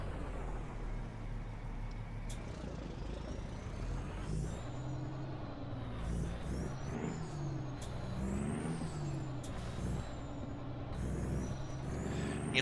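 Peterbilt 379 full custom truck in American Truck Simulator, with a steady low engine drone throughout, hissing air-brake bursts and occasional high whistling tones, loud and continuous with no talking.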